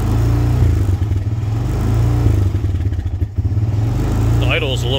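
Honda Recon TRX 250 ATV engine idling a little high after a cold start, a steady close chugging rumble that runs throughout, with a voice speaking briefly near the end.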